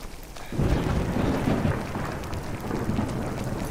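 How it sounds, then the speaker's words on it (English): Steady rain pours in Skyrim while a deep thunder rumble rolls in after a quiet start, the downpour hissing on under the fading boom. "Ah, it's still raining."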